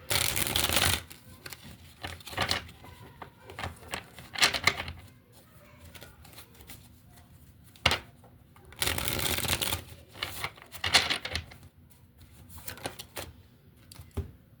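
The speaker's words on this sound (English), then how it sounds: "So all right, so I'm going to pull from a different deck." A deck of cards shuffled in two loud riffle bursts near the start and again around nine seconds, with softer handling and card snaps between; close and alone with no talk.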